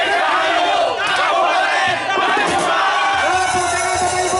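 A large outdoor crowd at a heritage procession in a town square cheers and shouts continuously, a dense roar of many voices with some clapping mixed in.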